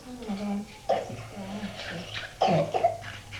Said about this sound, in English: to cough while she sucks out her tracheostomy tube